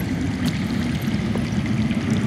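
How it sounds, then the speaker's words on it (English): Steady low rushing of water flowing somewhere underground in the Game of Thrones Telltale video game, a continuous broadband murmur at moderate level with no speech. "I hear water. From underground?"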